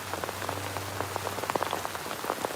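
Steady rain falls and drips on a surface nearby, a dense patter of small irregular taps with a low hum underneath, no voices.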